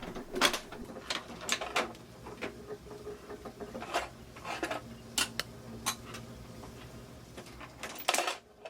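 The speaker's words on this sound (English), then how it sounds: "Drops out of the machine here, and then you have the line that you're going to print from." A letterpress line-casting machine in a print shop casts a line of type, giving off a run of metallic clicks, clanks and rattling mechanism sounds at close range, with a faint low hum underneath and no talk.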